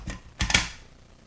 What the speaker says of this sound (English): Next thing I'm going to do is protect it with some clear tape.